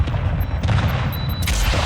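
Dense gunfire from Call of Duty Warzone 2 in Armored Royale mode: loud, continuous bursts of shots and booms fill the whole stretch with no talk over them.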